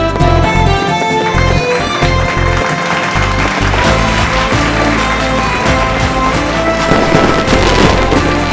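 Fireworks going off at a celebration in an animated adventure series: a dense, continuous barrage of crackles and booms layered with music and crowd noise, loud throughout.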